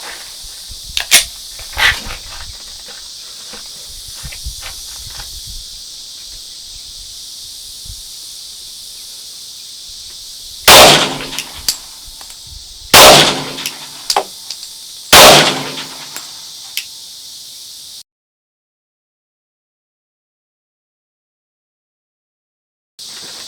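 Pistol fitted with a Vortex Venom red dot sight fired at targets outdoors; a few scattered faint pops early on, then three loud sharp gunshots spaced about two seconds apart, followed by silence.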